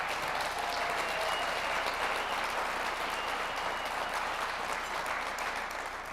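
Audience applause at the Patrick Mannelly Award event greets sponsor Zebra Technologies: six seconds of even, continuous clapping from a sizable crowd at a steady moderate level, with no speech.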